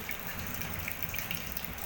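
Water leaking through a damaged house roof during rain, a steady close splashing and trickling wash with no talk.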